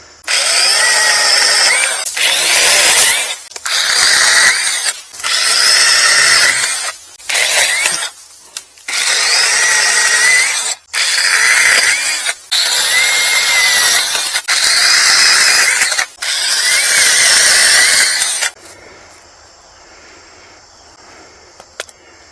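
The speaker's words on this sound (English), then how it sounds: "So it's like a real chainsaw. Cutting pretty good." A Sainlogic 21-volt brushless cordless mini chainsaw with a 6-inch cut buzzes loudly in repeated bursts of a few seconds each as it cuts through wood, then stops and falls quiet.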